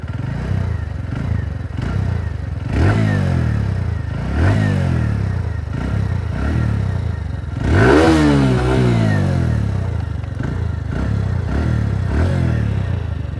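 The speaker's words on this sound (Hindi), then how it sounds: "इस गाड़ी का जो एग्जॉस्ट है ये कम्यूटर सेगमेंट में सबसे बेहतरीन एग्जॉस्ट है।" A TVS Radeon BS6 commuter motorcycle's exhaust rasps through repeated revs, each throttle blip rising and falling in a regular rhythm with a bigger surge near the middle, loud and close with no voices.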